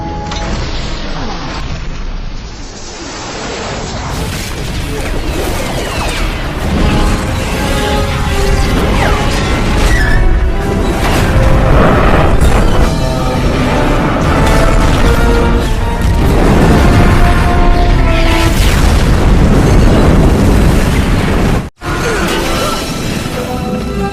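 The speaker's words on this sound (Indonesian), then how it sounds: "Akibat dari ledakan tersebut, menyebabkan seluruh pelabuhan hancur" A huge bazooka blast tears apart a harbor in an action film scene. It gives a dense, loud roar of booms, crashing debris and whooshes, sustained and layered with score and effects almost throughout, broken briefly near the end by a sharp cut.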